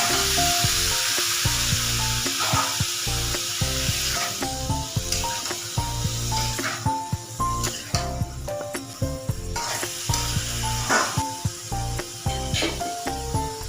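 Papaya fries in hot oil spiced with turmeric, salt and cumin, giving a loud, steady sizzle. Stirring clicks and scrapes sound close up throughout, with no talking.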